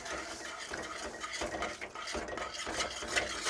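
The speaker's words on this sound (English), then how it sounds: "And into that I'm going to add milk, a little bit at a time" Milk being stirred into a biscuit mix in a bowl, a steady run of scraping, clinking utensil-on-bowl strokes with no talk.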